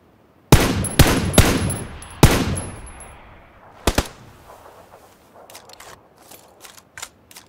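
Video game gunfire: several loud, sharp shots in quick succession close by, then a single burst and a string of fainter, more distant shots fading out.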